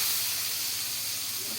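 Water poured into a hot pan of fried vegetables while making a rohu fish curry, giving a steady, loud, continuous sizzling hiss with no pauses or talk.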